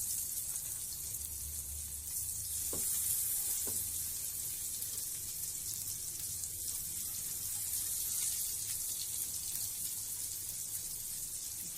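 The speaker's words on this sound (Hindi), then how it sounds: "अब मैं ये सारे केले इसमें लो फ्लेम में फ्राई कर दूंगी" Raw banana slices fry in mustard oil on a griddle over low flame, giving a steady, soft sizzle that runs throughout with a few brief clinks and scrapes.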